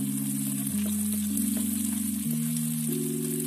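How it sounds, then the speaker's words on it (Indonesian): Onion is frying in a pan with golden garlic, giving a steady, soft sizzle that runs beneath sustained background music tones. "masukkan bawang bombay."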